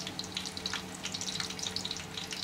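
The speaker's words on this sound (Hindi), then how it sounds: "अब हम इसमें डालेंगे हमारा चॉप किया हुआ प्याज।" Chopped onion frying in cooked-down masala for mutton dum biryani gives a soft, fairly quiet, continuous sizzle dotted with small popping bubbles.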